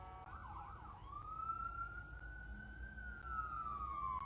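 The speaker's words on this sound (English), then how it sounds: "Oh, sirens going by outside." Emergency vehicle sirens pass outside, a wailing tone that shifts into a long steady rising-and-falling sweep, distant and muffled over low background rumble.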